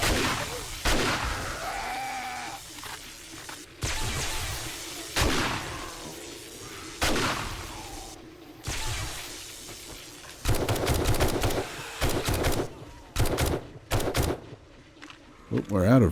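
Shotguns firing at a horde of enemies in a survival video game, repeated sharp blasts in uneven bursts, some rapid clusters, loud and close, with someone talking between shots.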